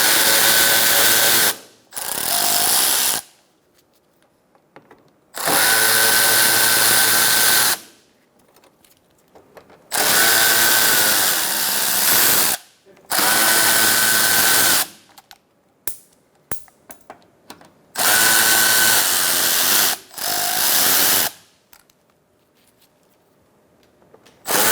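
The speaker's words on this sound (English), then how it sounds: "Using a T30 Torx bit socket, remove your Torx bit screws." A power tool with a T30 Torx bit socket removes screws from the thermostat housing of a 2012-2018 Ford Focus 2.0L, sounding as loud ratcheting whirs in bursts of one to three seconds separated by quiet gaps and small clicks.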